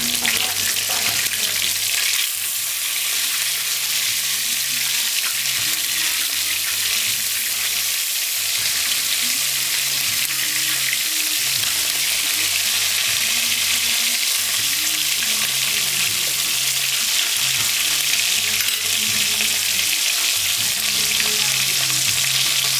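Chicken pieces frying in a pan just after being flipped, a loud, continuous close-up sizzle and crackle that holds steady the whole time with no voices.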